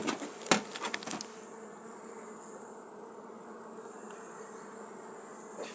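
A steady swarm-like buzz of Carniolan honey bees hums continuously, with a few brief knocks near the start; no one speaks.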